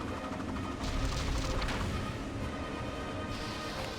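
Dense, continuous bursts of game gunfire fill the whole stretch, loud and sustained with rapid overlapping shots and booms, no talking.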